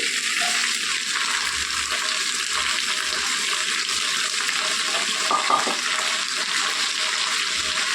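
Tender broad beans, 350 grams, sizzle in a hot pan, a steady bright frying hiss with light stirring scrapes throughout.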